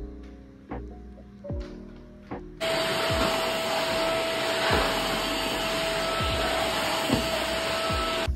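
A household vacuum cleaner with a freshly cleaned filter switches on after a few knocks and clunks, then runs with a loud, steady roar and high whine while occasional bumps sound beneath it.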